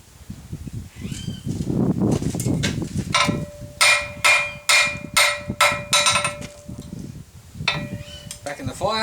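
Hot steel belt buckle being tapered on an anvil: a run of about eight sharp, ringing hammer blows in quick rhythm, then a few more strikes, with a sustained metallic ring and some rustling before.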